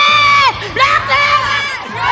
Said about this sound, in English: Let's get them to cheer for Yue.